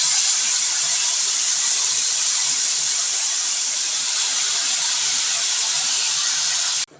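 Grated bottle gourd meets a hot pan of ghee for halwa, giving a loud, steady sizzling hiss that holds evenly for several seconds before cutting off abruptly near the end.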